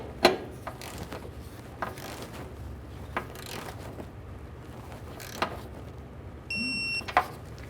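A ratchet tightens a fuel tank strap mounting bolt on a 2012-2018 Nissan Altima, giving a series of faint, sharp clicks spaced out at irregular intervals over low background noise.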